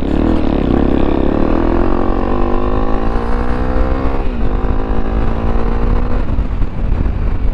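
A motorcycle engine drones loud and close on a trail ride, the pitch rising and falling as it shifts and revs, with wind rush throughout and no voices heard.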